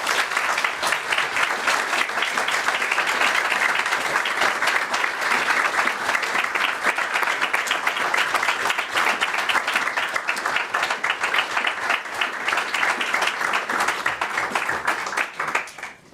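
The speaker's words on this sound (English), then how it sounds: "You are clapping for yourselves" Sustained loud applause from a large audience at a celebration of the international prohibition on nuclear weapons, dense continuous clapping lasting about sixteen seconds before tapering off at the end.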